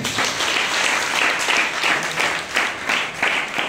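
A church congregation applauds at an anniversary celebration, with dense, steady clapping that swells in rhythmic waves and fills the room for the whole stretch.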